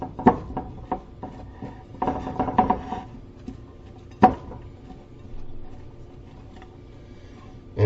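Cabbage and green onions are stirred in a pan, with close clacks and scrapes of a utensil against the pan in an irregular cluster, then quieter rustling.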